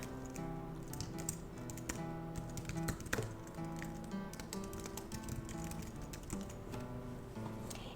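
Computer keyboard typing at a desk, soft, quick irregular key taps, faint and close, set against a low background of sustained tonal music with no talking.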